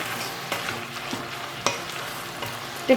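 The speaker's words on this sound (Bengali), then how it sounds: "দুই টেবিল চামচ রসুন কুচি দিয়ে আরেকটু নেড়ে নিতে হবে" Chicken tossed with two tablespoons of chopped garlic sizzles steadily in a hot pan, with repeated scraping stirs of a spatula cutting through the close frying sound.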